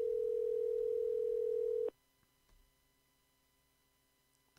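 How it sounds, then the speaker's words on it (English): A steady telephone dial tone hums loudly for about two seconds while a call is being placed, then cuts off abruptly, leaving near silence with a few faint clicks on the line. "Look, and I'm going to call right now."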